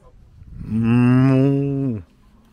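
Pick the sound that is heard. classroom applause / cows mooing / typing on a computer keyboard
cows mooing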